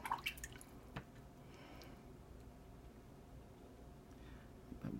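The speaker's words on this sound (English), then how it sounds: "dabbing in a little bit more water" A watercolor brush dabbing into water during a painting session, heard as soft, quiet wet taps and drips, a few near the start and one or two faint ones later, with no talk.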